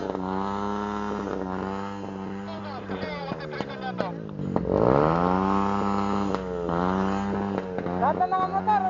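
Several motorcycle engines idling and revving nearby at a gathering before riding off, with fluctuating pitch and occasional throttle blips, while people talk over them.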